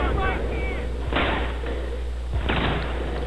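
Heavy booming shots and artillery-like blasts from Battlefield Bad Company 2 combat, two or three loud impacts spaced about a second apart over steady game noise.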